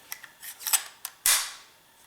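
AR-15 rifle with the bolt released and the dust cover snapping open: a few light metallic clicks lead into one sharp, loud metal snap that rings off briefly, close up with no talk.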